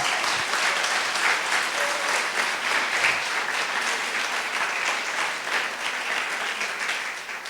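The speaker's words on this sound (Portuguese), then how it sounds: "Dá um aplauso a Jesus, porque Ele merece." A church congregation at a Sunday service claps together in sustained, dense applause, close and even in loudness for several seconds without letup.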